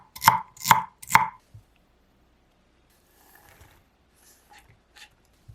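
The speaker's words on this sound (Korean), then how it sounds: "샐러리는 반으로 가르고 작은 크기로 잘라 팬에 넣을게요." Celery is chopped into small pieces on a board: three loud, evenly spaced knife chops up close, followed by a few faint light taps and handling noises in an otherwise quiet kitchen.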